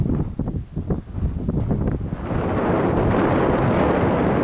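Strong wind on rocky high ground on Dartmoor buffets the microphone, rumbling and gusting, growing into a constant loud roar halfway through.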